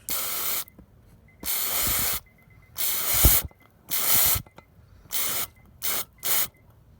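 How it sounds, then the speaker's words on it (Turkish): Seven sharp bursts of aerosol cleaner spray onto a closed car throttle body hiss in an uneven rhythm, each lasting under a second, close by with quiet gaps between them. "İlk olarak kelebek kapalıyken spreyi sıkıp birlerin yumuşaması için biraz bekliyoruz"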